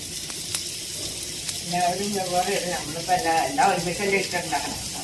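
Chopped onions sizzle and crackle in hot coconut oil in a pan. A steady frying hiss runs beneath someone talking throughout.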